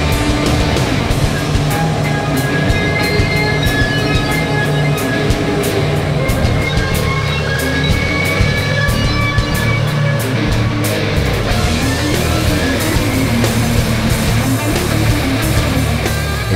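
A Bandit Model 3680 Beast Recycler runs at full power, a loud, constant heavy-machinery roar with a deep engine drone and dense mechanical rumble that barely changes over the whole stretch.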